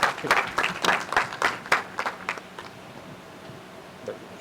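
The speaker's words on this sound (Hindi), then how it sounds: "जोरदार तालियों के साथ स्वागत कीजिए" An audience claps to welcome the editor-in-chief at a newspaper event, a burst of fairly close applause that fades out over a few seconds into quiet room tone.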